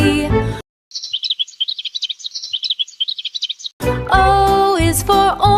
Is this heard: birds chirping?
yes